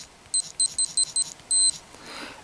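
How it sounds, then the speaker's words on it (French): A COOKOO smartwatch's cuckoo alarm rings as five short, bright electronic beeps in quick succession, then one longer beep, clear and close. "vous avez également le réveil coucou"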